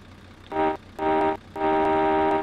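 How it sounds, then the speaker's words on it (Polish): Horn of a BAZ A079 bus in the OMSI bus simulator, sounded in three loud, clean honks: two short blasts followed by a longer held one, alone with no talk. "Klaksonik też fajny jest."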